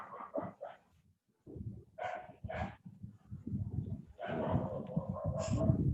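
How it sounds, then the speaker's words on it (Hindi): A dog barks in short repeated bursts nearby, with brief yips and pauses between clusters and a low background rumble throughout. "इसका कुत्ता भौंक रहा है भाई।"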